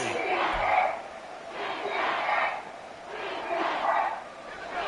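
A video game stadium crowd in Madden 24 roars in broad, surging swells of cheering and shouting that rise and fall steadily throughout, with no clear speech on top.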